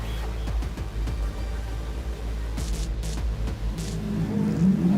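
A Ferrari FXX race car on a track, its engine note rising and falling with revving and shifting, loud and fairly close over a continuous background drone.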